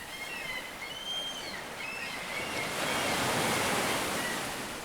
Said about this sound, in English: The waves are gently rolling onto the sand